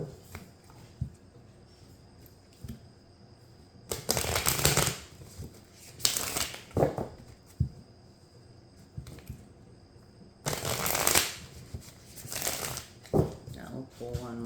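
A deck of oracle cards is shuffled by hand in several short, crisp riffling bursts separated by quiet pauses, close and clear, with a voice speaking in between.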